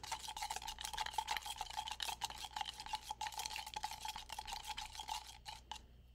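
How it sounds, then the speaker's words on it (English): Continuous close swirling and clinking as a solution is stirred to dissolve chunks in a container, a fast, steady scraping rhythm throughout that stops just before the end. "And now stir it to dissolve."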